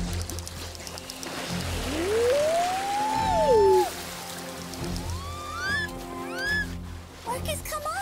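Cartoon orcas give long rising and falling whistles and squeals over a wet, rain-like wash of background noise, with several shorter upward calls following the first long one.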